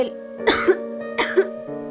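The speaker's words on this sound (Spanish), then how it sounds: "Comenzó a toser de nuevo" A sick, pained woman coughs in a story soundtrack, two harsh, close cough bursts about three quarters of a second apart over a steady low musical drone, with no speech.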